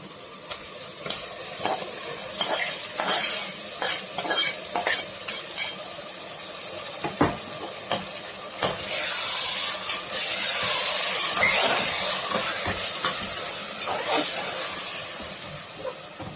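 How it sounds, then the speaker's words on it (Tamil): Marinated chicken sautéing in a hot pan for a home-cooked biryani, with a loud, steady sizzle and hiss broken by repeated scraping stirs of the spoon, close up and with no talking. "மேரினேட் பண்ணி வச்சு சிக்கனை சேர்த்துடலாம்."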